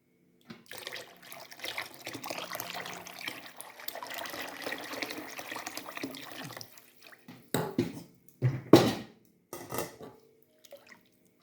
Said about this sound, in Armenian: հիմա նորից մի փոքր ջուր ավելացնեմ